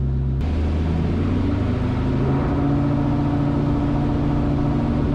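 A Terminator Mustang engine running on a dyno with Holley EFI, a loud steady rumbling drone whose pitch rises slightly as it revs, close and continuous throughout.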